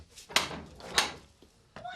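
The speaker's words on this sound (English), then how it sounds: "Ark, is that an angel I hear knocking at the door?" Knocking at a door in an indoor home scene from a 1997 British soap, with two sharp knocks about half a second apart and a softer thud after, under faint background voices.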